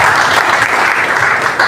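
An audience at a poetry celebration gives loud, dense applause that holds steady and sustained from start to finish.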